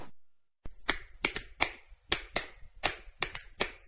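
Fan Hands sports fan accessory clapping, about ten sharp, irregular claps following a moment of silence, close and fairly loud with nothing else in between.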